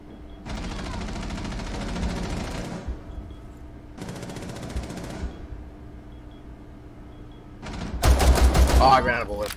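Rapid automatic gunfire in the tactical shooter game Rainbow Six Siege, two sustained bursts of a few seconds each followed by louder, denser shots with metallic clatter, close and dominant.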